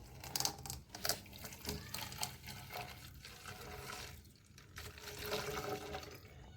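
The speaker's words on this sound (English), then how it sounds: "So I'm going to pour this entire content in this." Petrol-ethanol blend fuel (Indian Oil XP100 and XP95) pours steadily into a bottle, a continuous splashing, gurgling stream with a brief lull partway through, close and alone without talk.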